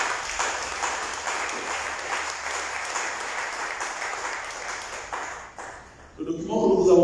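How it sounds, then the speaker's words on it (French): Loud, sustained audience applause fills a conference hall at a lay apostolate commission gathering, continuing for several seconds before tapering off as a voice begins speaking at the end. "je vous demande aussi d'applaudir très fortement"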